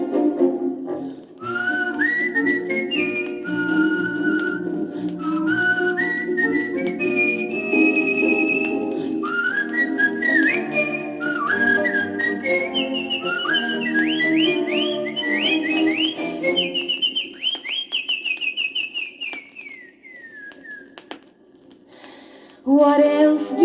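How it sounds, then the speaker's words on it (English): Bright melodic whistling from an old Camelot cast record, a long continuous tune of rising and falling phrases over orchestral accompaniment, loud and steady throughout. "whistling seems to brighten up their day"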